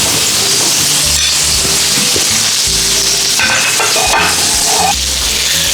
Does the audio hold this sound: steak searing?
yes